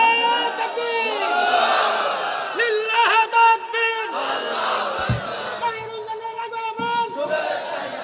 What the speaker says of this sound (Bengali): তাকবীর দেন, ভালো করে তাকবীর দেন।